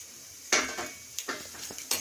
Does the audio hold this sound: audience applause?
no